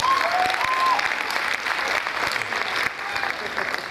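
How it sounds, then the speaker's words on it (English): An audience applauds the ladies in the house, a dense steady clatter of many hands clapping at close range that holds strongly for about four seconds with a faint whistle near the start. "I'd like you to just give a round of applause to all the ladies in the house."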